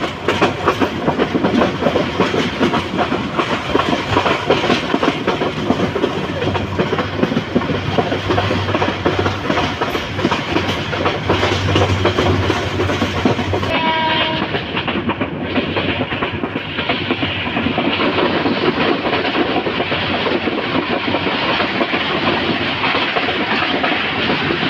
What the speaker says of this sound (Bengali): ট্রেনটি গাজীপুর জেলায় প্রবেশ করেছে নরসিংদী জেলা ক্রস করে